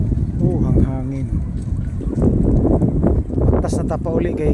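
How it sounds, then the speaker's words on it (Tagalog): Wind gusts across a coastal bridge at Bucana, Davao, a loud constant buffeting roar against the microphone, with people talking under it. "Oh, mahangin."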